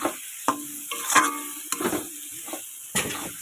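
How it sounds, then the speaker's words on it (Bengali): Fried potatoes are stirred into a spiced pangas fish curry in a pan: several spoon knocks and scrapes with a light sizzle between them, close and moderately loud. "এই আলুটা ভালো করে আমি এখন ভেজে নিয়েছি আগে ভেজে নিয়ে এখন আমি এটার মধ্যে দিয়ে দিলাম"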